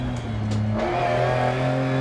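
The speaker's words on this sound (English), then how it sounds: "every car in this game sounds fantastic, but the Stratos especially" A Lancia Stratos rally car engine in the game Dirt Rally revs up close, the pitch climbing with a brief shift, steady and loud throughout.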